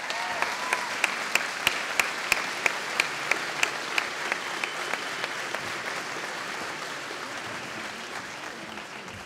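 Applause for award winner Kaylee Toomey at a school graduation ceremony, with a few sharp rhythmic claps leading over a broad, steady audience clapping that gradually eases.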